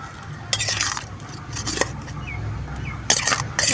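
Onions and tomatoes are stirred in a pan with a metal spoon as they sauté. Soft scraping and clinking come up close in short bursts over a low background hiss.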